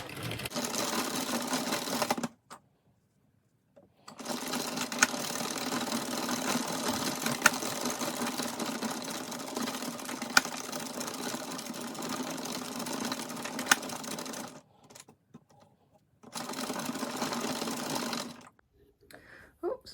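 A knitting machine carriage runs rounds of waste yarn in long continuous whirring passes, pausing twice briefly between runs, close and steady with no talk.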